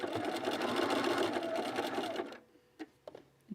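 A sewing machine re-stitches the bottom of a buttonhole on a pajama top, running in a fast, close, steady whir for about two seconds before stopping, followed by a few light mechanical clicks.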